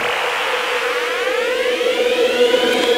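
A malfunctioning workout timer alarm goes off, a loud continuous electronic siren-like tone sweeping upward in pitch for a few seconds, heard alone.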